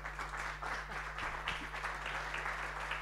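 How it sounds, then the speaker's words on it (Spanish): An audience at an educational innovation seminar gives steady applause of many hands clapping together, a continuous, even patter heard from within the room over a constant low electrical hum. "Le damos un fuerte aplauso."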